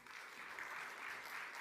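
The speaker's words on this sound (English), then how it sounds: "Yeah, you can clap for me." Applause at a university diversity showcase panel, a brief and faint spell of steady clapping that sounds distant, with no talking.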